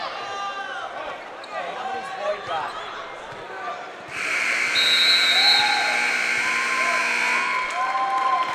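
Final buzzer at a women's college basketball game (Lady Eagles vs. Wesleyan College) blares loud and sustained for several seconds after a stretch of court noise and voices, with crowd sound continuing around it.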